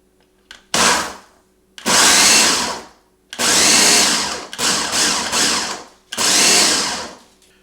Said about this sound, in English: we're gonna give it a few pulses